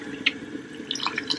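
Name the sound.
water being poured into a pot of prunes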